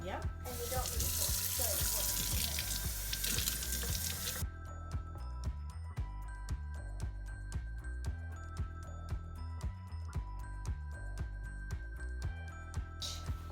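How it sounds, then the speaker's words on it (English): Tap water gushes into a sink to rinse a tie-dyed shirt, a loud rushing splash for about four seconds, then stops, leaving quiet clicks and knocks with faint voices. "Do I just rinse it out?"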